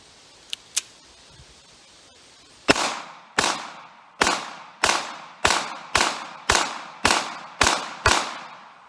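A Ruger LCP Max .380 ACP pistol firing during a torture test: two faint clicks, then ten sharp, loud shots at a steady rhythm, each with a short ringing decay.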